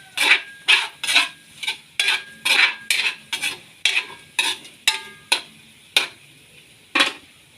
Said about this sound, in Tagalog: Tapos, gigisa na natin guys.